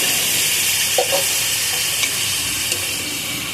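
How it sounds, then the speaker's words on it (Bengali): Whole shrimp sautéing with spices for a Bengali chingri bhuna, a steady broadband sizzle and hiss throughout with a few soft stirring scrapes of the spoon against the pan. "চিংড়ি মাছটা মশলার সাথে আমি কষিয়ে নিচ্ছি।"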